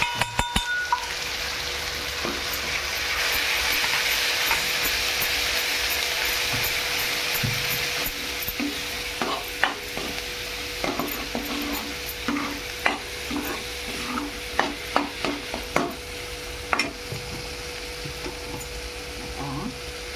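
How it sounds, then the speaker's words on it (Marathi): Ground masala paste with chilli and coriander fries in oil, a steady sizzle joined by repeated scraping and clicking of a spoon stirring the pan, growing more frequent in the second half. "वाटण आता परतून घेते सगळं तेलात."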